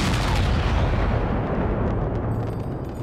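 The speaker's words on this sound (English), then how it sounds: "At 10 past 4, cannon opened fire on the rebels." Deep, heavy cannon fire on rebels in Senate Square, St. Petersburg, rumbles loudly and continuously, booming blasts blending into a rolling roar that slowly fades.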